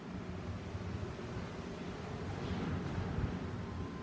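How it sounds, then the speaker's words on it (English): Strong wind during a 2019 typhoon roars as a steady, broad rushing noise, with gusts buffeting the microphone, moderately loud and constant throughout. "there are a lot of winds and sounds"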